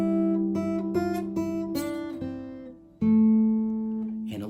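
A guitar picks out the opening notes of We Wish You a Merry Christmas, single clear plucked notes in a moderate rhythm with one longer note held near the end, close and alone.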